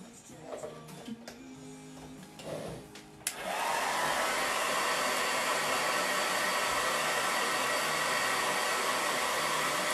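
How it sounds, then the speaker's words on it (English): A hair dryer switches on with a click after a few seconds of talking, then blows as a loud, steady whoosh close by until the end. "Let me blow dry this real quick."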